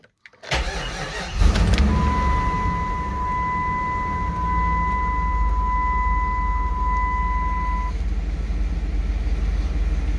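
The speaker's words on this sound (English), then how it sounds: "Let me just have a quick listen to how the gearbox actually sounds." A car engine starts and settles into a steady running drone, with a faint high whine from the gearbox riding over the low rumble for several seconds.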